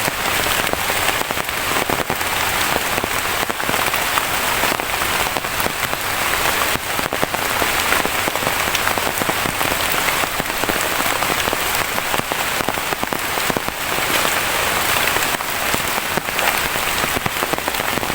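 Rain falling in a forest, a steady dense patter and hiss with scattered sharper drops, continuous and fairly loud throughout, no talking.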